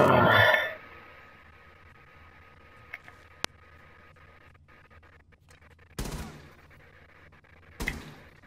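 Gunshots in Rainbow Six Siege are scattered and sparse: a loud burst at the start, a sharp crack near the middle, then two more muffled shots later against a quiet background.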